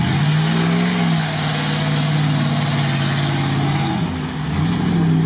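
A Dodge off-road jeep engine running loud and close with a steady low drone that swells slightly in pitch as it revs, continuous throughout with no speech.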